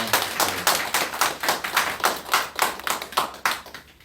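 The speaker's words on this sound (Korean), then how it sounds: "예, 큰 박수 부탁드리겠습니다." A church congregation claps for a newly introduced pastor, with distinct, fairly sparse hand claps in a loose rhythm close by, tapering off toward the end with no talking.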